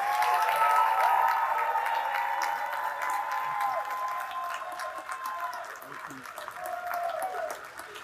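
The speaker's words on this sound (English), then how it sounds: "Coach Reddick another round of applause" An audience at a South Atlanta High School gym dedication applauds Coach Michael Reddick, a continuous crowd clapping that starts loud and slowly tapers, with faint voices and whistles mixed in.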